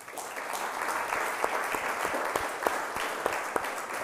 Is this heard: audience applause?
yes